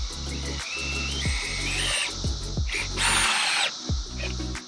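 A power drill drives screws into wood at slight angles, with repeated whirring bursts that rise and stop. A louder, harsher grinding burst comes midway.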